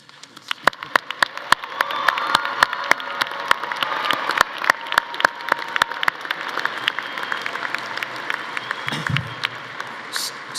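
Commencement audience applauding honors graduates at a College of Natural Sciences ceremony: sparse, sharp individual claps at first, building into a steady wash of crowd clapping with distinct nearby hand claps standing out, a brief low thump near the end.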